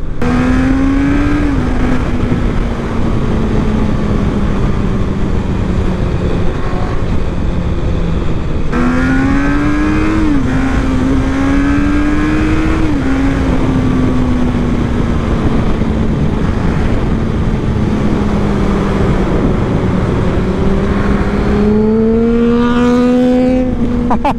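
Engine of a 2024 QJMotor SRK 800RR sport-touring bike on a test ride, continuous loud onboard drone with a few quick upshifts and revs climbing then settling, wind rushing underneath, no voices.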